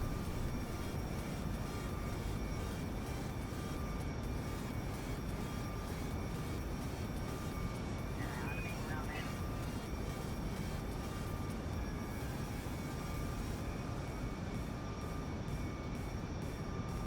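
Steady engine drone of an aircraft flying in Kerbal Space Program, a continuous broadband roar holding at one level for the whole stretch with no voices.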